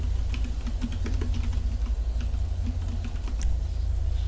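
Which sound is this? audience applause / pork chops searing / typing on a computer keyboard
typing on a computer keyboard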